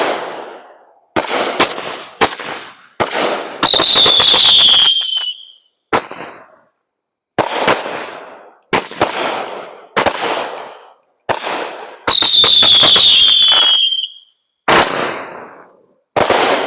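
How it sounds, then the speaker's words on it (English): Racoon Fireworks Monkey Business firework cake going off, a rapid series of loud, sharp shots with crackling bursts and two long whistling, squealing volleys, close and without talk. "This one's by Racoon Fireworks. Monkey Business by Racoon."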